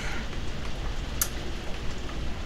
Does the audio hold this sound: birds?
no